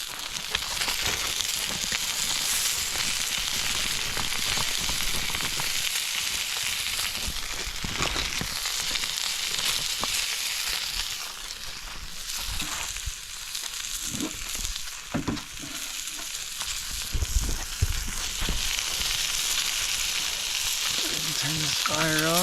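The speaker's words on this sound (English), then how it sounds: "Looking good, got the potatoes in there. Gonna add these" Potatoes and beans fry in a pan over a campfire during hot summer solo camping, giving a steady, loud sizzle and crackle that runs the whole time with occasional stirring scrapes.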